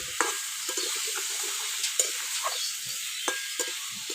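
Pumpkin being stirred in a cooking pan, with a steady frying sizzle and repeated sharp spatula scrapes and knocks at an uneven rhythm, close and alone.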